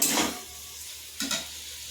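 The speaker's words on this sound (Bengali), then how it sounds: "খুব সুন্দর করে মেল্ট করে নিচ্ছেন মা, ঘি ভালো করে ভেজে নিচ্ছেন" Ghee melting and frying in a pan for milk barfi sizzles steadily while a spoon scrapes and stirs in two brief bursts, close up with no talking.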